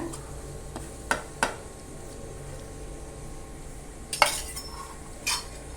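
A utensil clinks and taps sparsely against a pan as dry coconut roasts over a low gas flame, a handful of light, close knocks over a quiet background hiss.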